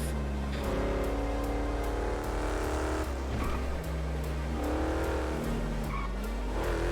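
Car engine in GTA V roleplay, driving steadily and loudly with a continuous drone, shifting revs, and brief tire squeals during a chase.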